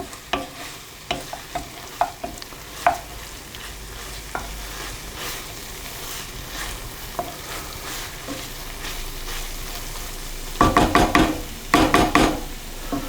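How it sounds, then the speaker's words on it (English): Flour mixture for minced steak pies cooking and being stirred in a pan, with soft scraping strokes over a steady sizzle, then a louder burst of rapid stirring near the end; no talking. "We're going to cook that down for a minute so that the flour starts to cook"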